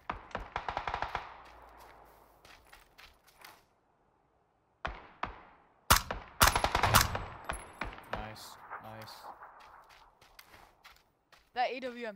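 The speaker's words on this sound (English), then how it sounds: "That AWM headshot, that was nice." Sharp AWM sniper rifle shots and other gunfire in a squad-based battle royale match, several loud cracks scattered across the clip with quieter footsteps and movement between them, players talking over the action.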